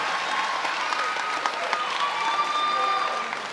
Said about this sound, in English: would we please give them a round of applause?